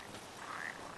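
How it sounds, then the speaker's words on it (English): Frog croaks from Final Fantasy XV, a short game sound cue heard alone against a quiet ambient background, a single brief call rising in the middle of the second. "if they did not have the noticeable audio cues for the frogs, this quest would be so much worse"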